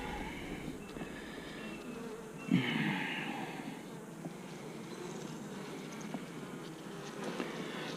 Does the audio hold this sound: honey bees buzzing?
yes